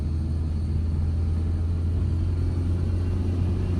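Car engine speeding up in a narrow lane, a steady low rumble that holds close and even throughout with no talk.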